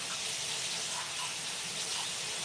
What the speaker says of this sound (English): Rinse off this spatula,